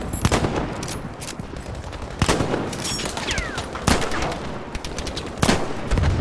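Battlefield 5 gunfire: sharp rifle and automatic shots crack in uneven bursts, some close and loud, others more distant, over steady battlefield background noise.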